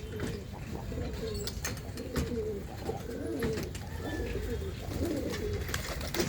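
Lal Cheeni pigeons cooing, repeated throaty coos in a steady rhythm at close range over a low background rumble, with no talking.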